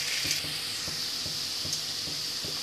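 Onions sautéing in a pan for a Tamil fish curry (meen kulambu), a steady close sizzle with soft periodic scrapes and knocks from stirring, no voices.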